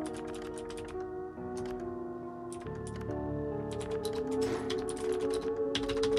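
Computer keyboard typing during a typing-based horror game, clusters of quick clicks in short bursts over sustained game music tones, moderately close and fairly quiet.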